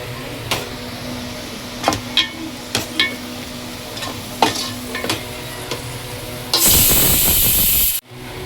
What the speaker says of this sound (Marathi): शालो फ्राय करून घेते.